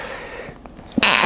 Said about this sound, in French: Et là, je vais éternuer.